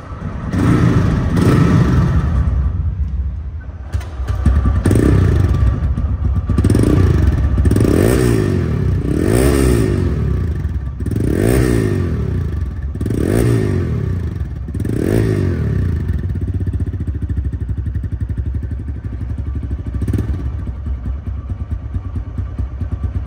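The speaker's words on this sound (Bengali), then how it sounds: "গাড়িটির সাউন্ড কোয়ালিটি শুনলে আপনারা বুঝতে পারবেন যে ইঞ্জিন কোয়ালিটি কেমন" A second-hand 2022 TVS Raider motorcycle engine idles loudly up close, then is revved repeatedly in a steady series of rising and falling bursts before settling back to a steady idle.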